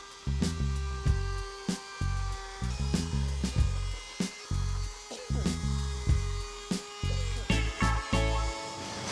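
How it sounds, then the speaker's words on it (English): A handheld wood router fitted with a chamfer bit cuts along a tabletop edge in short repeated passes, each pass a sharp high whine with a crunchy bite into the wood, starting and stopping in an irregular rhythm. "I'm chamfering the bottom edge using a chamfer bit on my router"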